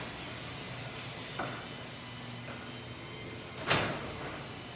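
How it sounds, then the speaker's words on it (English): A new Clopay 2050 garage door runs open with a steady mechanical hiss and hum throughout, a soft knock partway through and a sharper clunk near the end. "So I'm opening the new garage door."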